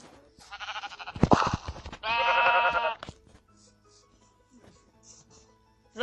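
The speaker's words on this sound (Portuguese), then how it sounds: "Uma ovelha." Minecraft sheep bleating: two loud, close, wavering bleats in quick succession, followed by quieter game sounds and faint background noise.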